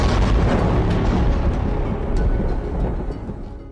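Thunder from storm clouds during a violent storm rolls in as one loud, continuous, booming rumble that slowly fades and swells, with no voices heard.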